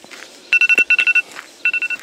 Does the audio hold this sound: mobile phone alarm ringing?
yes